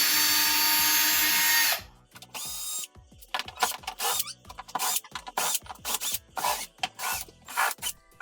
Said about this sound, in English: We're going to go ahead and remove all of the T15 Torx screws.